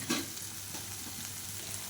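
Chili powder sizzles in hot oil in a pan over a low flame while tempering, a steady close-up crackle with a brief louder spit at the start.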